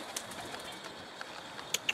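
A Mardin pigeon passing close overhead, soft wing flaps faint against quiet outdoor ambience, with two sharper flutters near the end.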